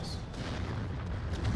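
A V2 rocket strike on artillery units in a WW2 VR RTS game lands as a dense, rumbling low boom with rolling explosive crackle, loud and sustained over its short span.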